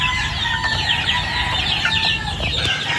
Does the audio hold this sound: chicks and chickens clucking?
yes